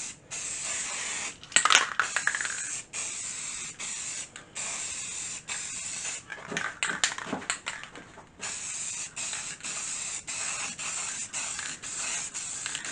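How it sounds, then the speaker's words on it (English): Repeated bursts of aerosol clear coat spray hissing close by, short sprays separated by brief pauses, with a few soft handling clicks between. "Then we're going to take our clear coat right here. We're just going to give it some spray"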